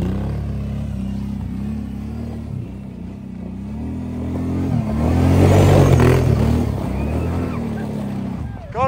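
A brand-new ATV engine revs under throttle, idling roughly, then swelling into a louder, harder rev that eases off again near the end.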